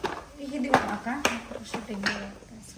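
A child playing alone with toy pots and pans makes light clinks and taps, several small metallic knocks spread unevenly through the moment while a voice talks over them.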